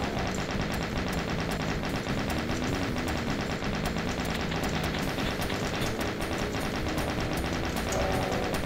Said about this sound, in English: go ahead and use the chain gun